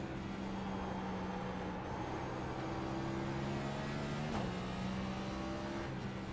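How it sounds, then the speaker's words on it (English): A race car engine drones steadily in a sim racing game at Circuit of the Americas, a low, fairly quiet, continuous hum with a slight pitch shift near the end and no voices. "I wonder if the car audio is a little low compared to what it normally is"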